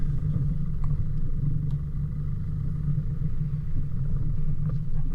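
A 4WD Troopy driving out over a rocky track on the Flat Rock Track near Tallarook, giving a steady low engine rumble with faint knocks and clatter throughout.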